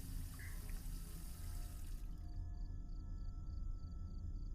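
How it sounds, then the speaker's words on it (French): Water running from a tap in the Fears to Fathom game, a steady close hiss of flowing water that continues alone throughout, with a faint electronic hum appearing halfway through. "Ah, faut que j'aille boire au robinet."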